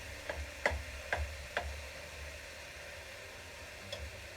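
Ground chuck browns in a pan with a low, steady sizzle, broken by a few sharp clicks of a utensil against the pan. Faint and close, with no talking.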